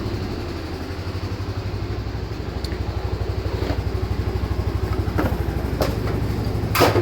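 A GMC Sierra AT4 pickup truck idling in a garage, a steady low rhythmic engine rumble with a faint pulsing beat, close and constant, a few light clicks over it, no voices.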